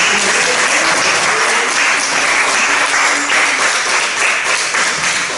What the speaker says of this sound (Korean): 우리 추기영의 박수를 드립니다